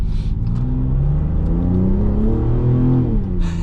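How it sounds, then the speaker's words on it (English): A 550-horsepower 2026 Dodge Charger Sixpack turbocharged engine accelerating, loud close rising engine tone with shifting pitch and brief turbo whooshes at the start and end, with no talking. "you hear those turbo whooshes"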